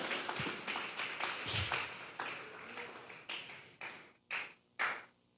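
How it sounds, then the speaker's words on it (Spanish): A congregation at a Sunday church service claps as an offering to God. The claps start as a quick, dense rhythm and thin out into a few sharp, separated claps at the end. "Vamos a regalarle ofrenda de palmas al Dios de la gloria."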